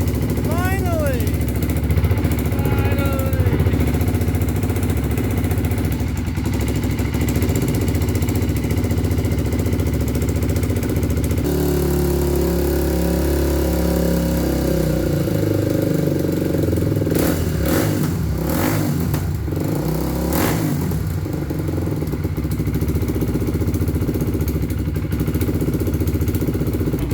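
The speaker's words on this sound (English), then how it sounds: "Huh? Idle's like not good. Probably gotta adjust it." A restored sports quad's engine runs continuously up close with a rough, uneven idle, its throbbing drone shifting pitch partway through, and voices talk over it at times.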